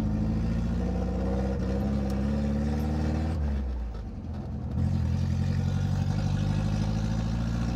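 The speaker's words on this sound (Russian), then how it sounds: "и двигатель прекрасно работает" A Moskvich 2140 car engine runs steadily, dips briefly, then revs up again with a strong, rough low hum close by.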